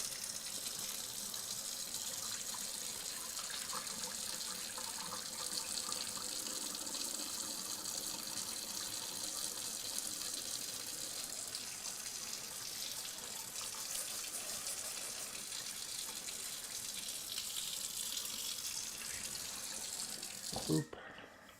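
A kitchen tap runs steadily while dishes are rinsed, making a continuous close splashing gush that lasts throughout and then abruptly stops near the end.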